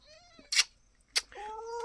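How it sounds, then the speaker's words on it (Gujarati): Small, high-pitched kitten meows sound faintly nearby, a few short calls separated by brief noisy rustles. "આપણા મીંદડીના બસલા"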